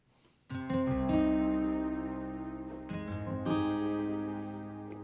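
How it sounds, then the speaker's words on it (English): Sustained synth pad chords on an Akai MPC Fabric XL swell in, shifting through a few notes and then ringing out in a long, slowly fading release tail. "What you're hearing there is just like the release of the"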